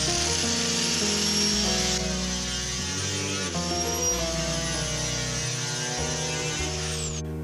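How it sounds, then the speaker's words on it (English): Steady mechanical whine of a power sander running continuously on wood fiberboard, with a constant motor hum and shifting pitch as it works across the surface, close and loud. "now I'm sanding it over"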